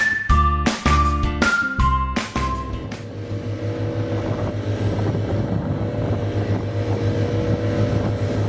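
A few loud knocking thumps, then a steady droning engine with wind noise as a small local boat runs at sea from port to Gili Meno, Indonesia.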